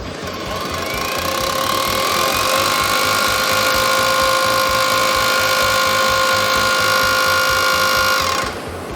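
HiKOKI three-function rotary hammer drilling a hole at a trade fair, a loud, steady rapid hammering buzz with a high whine that runs continuously, then stops abruptly.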